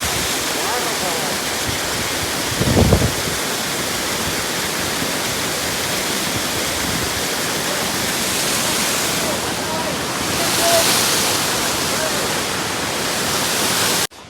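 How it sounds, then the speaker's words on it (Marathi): A waterfall roars down in a constant, loud rush close by, a dense wash of noise, heard from beneath it; a brief voice and some handling thumps break through early on. "हे बघा वसुंधरा वॉटरफॉल खाली आम्ही उभे आणि आमच्या अंगावर पाणी पडलंय साक्षात"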